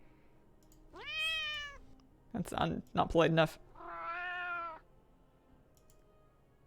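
A house cat meowing, tried out as a panther call: a drawn-out meow, then a burst of choppy chirps, then a second long wavering meow, close and clear over low room hum, with a person speaking briefly between.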